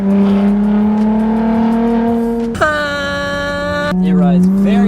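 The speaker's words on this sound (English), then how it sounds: "No, this is wide open exhaust." Ford Explorer ST with a 3-liter V6, about 700 wheel horsepower and wide-open exhaust, droning loudly under acceleration with a steady tonal engine note that jumps in pitch at a gear change, while people talk inside the cabin.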